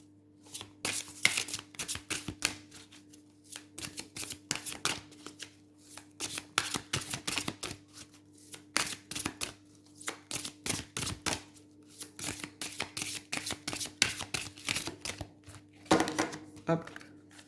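A deck of oracle cards is shuffled close up, giving repeated quick papery riffles and flutters in irregular bursts over a steady low hum, with little pause across the whole stretch.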